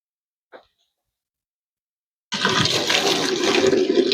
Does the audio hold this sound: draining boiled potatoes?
yes